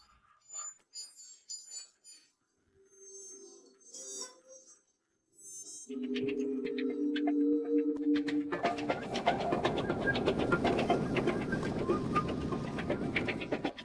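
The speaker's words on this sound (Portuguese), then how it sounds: "O trem faz parte da cultura japonesa" At a modern train station in Kanazawa, Japan, faint chirps and small sounds give way to a tonal whine, then a steady, broad rumble of a train that carries on to the end.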